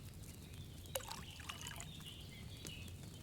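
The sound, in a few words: wine poured into a cauldron in Kingdom Come: Deliverance 2 video game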